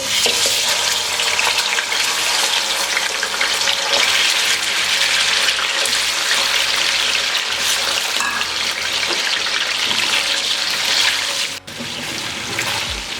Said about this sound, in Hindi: हम ऐड करेंगे हाफ केजी चिकन को 5 से 7 मिनट के लिए अच्छे से फ्राई कर लेंगे